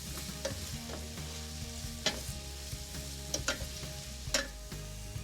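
A spoon stirring a softening fennel mixture with spices in a hot pan, gentle sizzling under a few distinct scraping strokes against the pan, close and fairly quiet.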